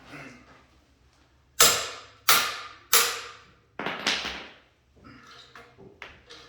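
Sharp metallic hammer strikes on a ratchet on a tight fastener ring out, three evenly spaced loud blows followed by several quicker, softer hits, each with a brief ringing decay.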